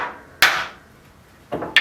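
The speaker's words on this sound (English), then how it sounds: "Takes almost no effort to drive these nails in." A heavy hammer drives nails into the wooden frame of a hand-built canvas for oil painting: a few sharp, loud, close strikes with quiet pauses between them.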